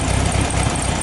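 A 1971 Chevrolet Fuscão (VW Beetle) engine idles close and loud as its mixture screw is tightened, a rough rumbling idle with uneven pulsing beats suggesting misfires, no voices.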